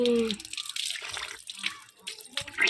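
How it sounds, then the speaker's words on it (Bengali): Water splashing and running near a sink as a child rinses her mouth after brushing her teeth, with irregular splashes and short bursts over about three seconds and a brief voice near the start. "কুচো করতে হয় তাই তো এই এই এই জল ঝাপটানি"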